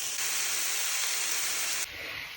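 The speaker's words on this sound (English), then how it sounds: "that's the sizzle we want" Chicken laid flat in a pan on a high burner sears with a loud, steady, hissing sizzle that runs unbroken throughout.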